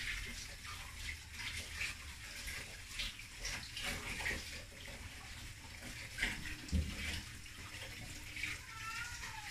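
A kitchen tap runs steadily to rinse sandy celery stalks, a continuous soft gush of water with faint splashing, quiet and even throughout, with no voices.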